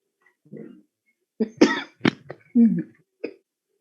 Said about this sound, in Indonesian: mohon maaf tadi saya batuk sebentar